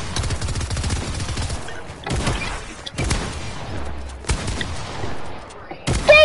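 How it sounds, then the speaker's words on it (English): Rapid bursts of automatic gunfire in the video game Fortnite come in several loud volleys separated by short pauses, with a voice heard faintly between the shots. "Who's shooting me?"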